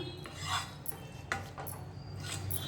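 Garlic softens in oil for an amla pickle, a low sizzle running under clinks and scrapes of a utensil against the pan.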